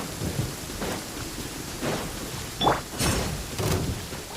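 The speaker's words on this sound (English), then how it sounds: "Thunder's so loud." Thunder crashes and rolls through a storm in a video game, with repeated loud rumbling bursts over a steady hiss of rain.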